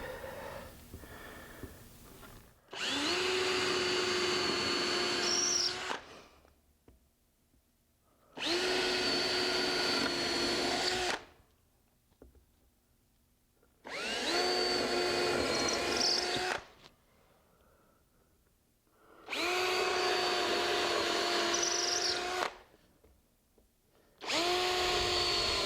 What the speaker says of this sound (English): I only need to get about 1/4 inch down in here, and I just simply drill it.